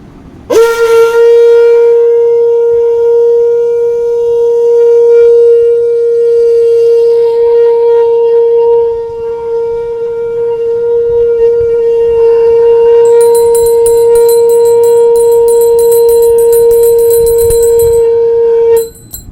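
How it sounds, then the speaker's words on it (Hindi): A conch shell is blown in one long, sustained, steady horn-like drone, loud and close, holding for most of twenty seconds before cutting off, with no speech. "तो शंख इस तरह से सभी लोग बजा सकते हैं"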